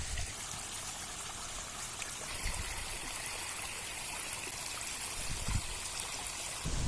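A waterfall stream rushes continuously with a broad hiss of flowing water, close and steady, with occasional low splashes and no speech.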